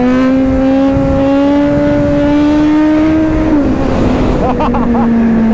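Kawasaki Z900 motorcycle on an open road, engine revving for a wheelie: a loud, sustained engine drone that holds a steady pitch and then drops slightly, with wind rush throughout.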